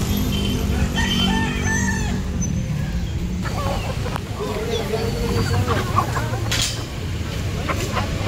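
Chickens cluck around a chicken coop on a busy Manila street, heard amid steady traffic and street noise while people talk nearby.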